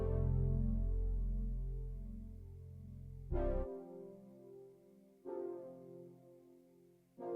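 Synth-like sustained chords, centrally panned in an 80s power pop mix with the low end and upper mids scooped out, swell and change every couple of seconds, each change marked by a soft attack, fairly quiet with no voices.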